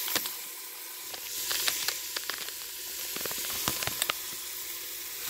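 Sausage meat frying in a pan on a stovetop for a keto sausage lentil soup, a close crackling sizzle with scattered sharp pops and spatters over a continuous hiss, no voices.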